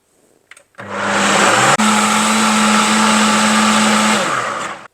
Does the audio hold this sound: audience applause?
no